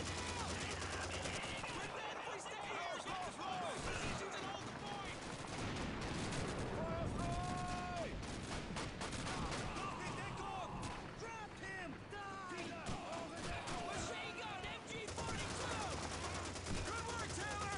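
Rapid machine gun bursts and scattered gunfire in an online video game, firing in quick repeated volleys over busy game noise, with some high whistling tones mixed in.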